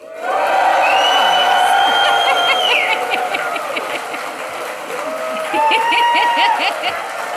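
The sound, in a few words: graduation audience giving a big cheer for graduates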